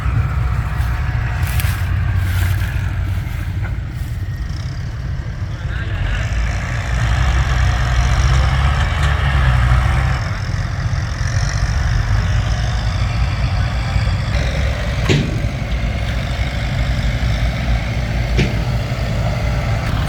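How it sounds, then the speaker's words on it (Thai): A tractor engine runs steadily throughout, a continuous low rumble with a mechanical idle-like drone and no pauses or voices. "รถไถไม่ได้หยุดเลยครับ"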